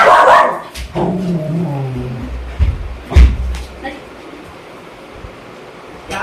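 Dogs bark close by around a house in a short burst near the start, followed by a couple of heavy thuds and then quieter ambient noise.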